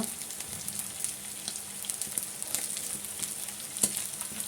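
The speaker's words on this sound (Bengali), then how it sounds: "গরম মশলার গুঁড়া দিয়ে দিয়েছি, এখন এটা ভালো করে কষিয়ে নেব।" Ginger-garlic paste with turmeric, chili powder, salt and garam masala sizzles and crackles steadily in a hot pan, a close, continuous frying hiss with small pops.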